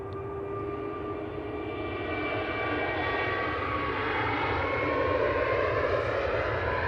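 An EasyJet A320neo airliner departing Manchester Airport for Tenerife from an intersection, its engines producing a steady, broad roar that swells gradually as it passes, with faint whining tones on top.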